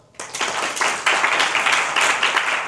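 Listeners at a hospice volunteer training session break into clapping, a sudden onset that swells into steady, fairly close applause from a roomful of people, continuing evenly without talk.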